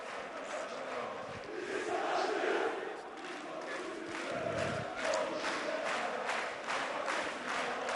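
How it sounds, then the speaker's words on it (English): A basketball arena crowd cheers and roars during a timeout in a European game between Besiktas Cola Turka and Hemofarm, a dense, steady wash of voices with rhythmic chanting and clapping throughout. "crowd are getting into it now, though"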